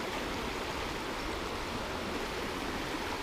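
Swift river water on the Middle Fork of the Holston River rushes in a steady, broadband wash, continuous and close with no breaks.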